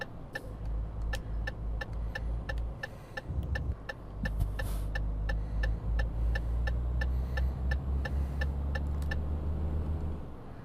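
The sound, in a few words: Renault Premium truck engine pulling a load, from video game Euro Truck Simulator 2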